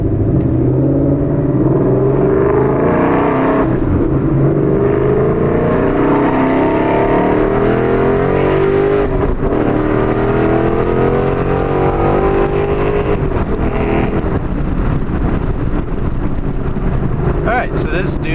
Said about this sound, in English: So I'm gonna drive, do a couple quick pulls